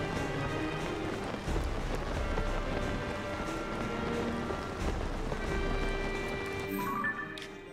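Steady rain falls in the Zelda: Tears of the Kingdom video game, a dense continuous patter that holds level throughout and thins out near the end.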